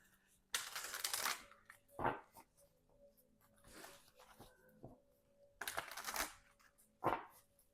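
Tarot cards are shuffled in bursts of crisp riffling and slapping, several separate close flurries separated by quiet pauses, with faint talk in between.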